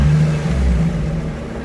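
A Nissan 350Z with a VQ35DE engine and a JWT clutch gives a close, low rumbling chatter and engine drone under light throttle, a short steady vibration with no talking.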